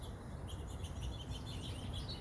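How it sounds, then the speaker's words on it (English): Several birds call and chirp outdoors in a quick scattered chorus, faint and distant over a steady low rumble of wind or background noise. "Lots of birds mating out here."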